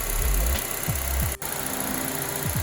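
Honda Element engine idling after warming up, a close, steady rumble with a faint rhythmic throb and no talking.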